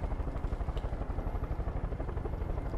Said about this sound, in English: Just need this militarized helicopter here.